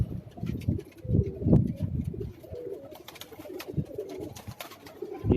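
Pigeons from Rampur coo nearby on a Karachi rooftop in soft, repeated throaty bursts, with some rustling and flapping between calls.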